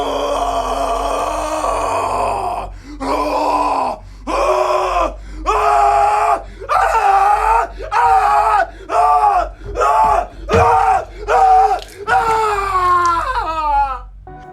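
Someone, wearing briefs and a tiger T-shirt in a film scene, screams loudly and repeatedly in long rhythmic bursts, each cry cut off by a short breath, the yells rising and breaking toward the end.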